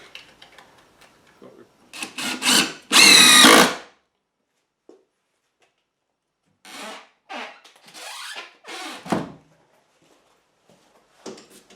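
A power drill drives screws into the lid of a chicken coop nesting box in short bursts, one loud whirring run and several briefer ones separated by quiet gaps.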